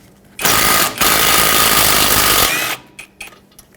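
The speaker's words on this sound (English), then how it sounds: "Now with a 13mm socket, remove the axle nut" An impact tool spins off the axle nut on a 2015-2020 Ford F-150 during a front strut job, using a 13mm socket: one loud, sustained buzzing rattle of about two seconds with a brief dip, close by, then quieter clicks.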